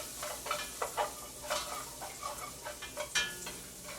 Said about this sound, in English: you just saute the garlic just a little bit